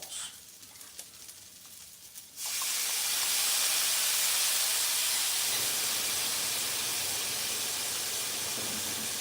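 Onions hit a hot pan with Worcestershire sauce and burst into a loud, steady sizzle that starts abruptly after a quieter stretch and holds strongly to the end, close and continuous.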